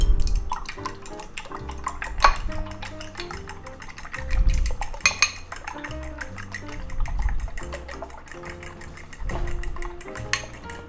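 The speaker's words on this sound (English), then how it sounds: "Now we'll beat these up a little bit." Eggs for a ham, green onion and cheese omelet are beaten briskly, a steady run of fast clinking whisk strokes against a bowl, up close, over a continuous tonal background and without speech.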